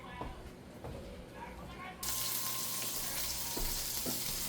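Bacon sizzles in a frying pan, with a soft crackle that jumps abruptly to a louder, dense hiss partway through and carries on steadily, with a few faint clicks.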